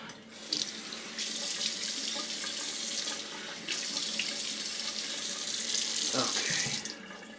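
Tap water runs steadily into a sink for a rinse after a shave, a continuous hiss that briefly dips once midway, close and moderately quiet, with no talk.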